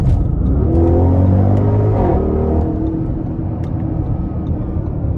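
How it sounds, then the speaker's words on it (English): A 2022 Audi RS Q8 on the interstate gives a loud, deep engine roar that rises in pitch as it accelerates, then holds a heavy rumble with a little road and wind noise. "when you put your foot into it and you get that roar just between the engine"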